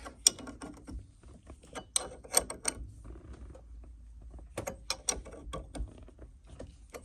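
A steering wheel puller being tightened on the steering column of a Mercedes 308D motorhome, with irregular bursts of quick metallic ratchet clicks separated by short quiet gaps, close but fairly faint.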